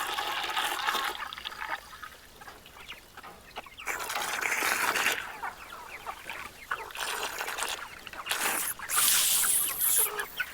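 Farm chickens clucking in a mixed bird flock kept for processing, with repeated clucks and squawks close by over splashing water from a hose nozzle, no talking.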